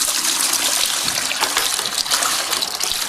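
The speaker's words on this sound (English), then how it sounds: "what I want to do is pour some water into my mixing bucket." Water gushes and splashes steadily into a mixing bucket being prepared for rapid-set tile adhesive, a loud continuous pour heard close up with no speech.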